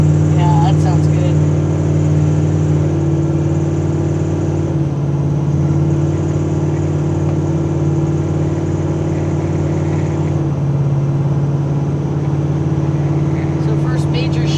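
The exhaust of a custom 1983 Chevy C10 truck holds a steady, loud drone with a slight shift in pitch partway through, while people talk over it.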